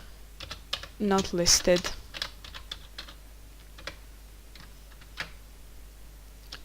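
Typing on a computer keyboard while entering an Excel formula, quick soft key clicks in scattered short bursts, quiet and close, with someone speaking over the first part.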